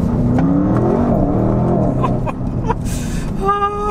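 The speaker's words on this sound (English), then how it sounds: "the sport exhaust just gives you, you know, a little bit more growl, I suppose," A 2024 Audi RS6 Avant Performance's engine revs and growls through its sport exhaust, pitch rising and falling, followed by a few sharp crackles and pops and a higher rev at the end.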